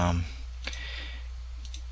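A computer mouse clicking during image editing, with a couple of short, sharp clicks spaced about a second apart over a low steady hum.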